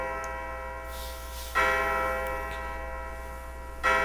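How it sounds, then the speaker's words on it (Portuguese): In the video game Lieat 3, a bell rings twice, each strike starting with a bright clang and then ringing on as a long hum. It plays over a steady low background tone. "Isso foi o sino?"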